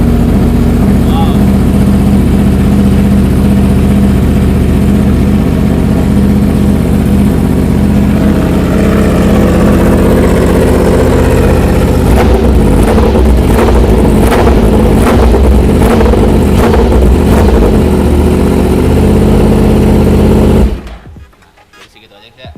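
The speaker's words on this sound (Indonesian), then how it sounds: "kita bakal dengarkan suara R1M ini" A Yamaha R1M superbike with an SC exhaust runs loud and close, holding a steady throaty drone and then blipping through a series of sharp rapid revs before cutting off abruptly near the end.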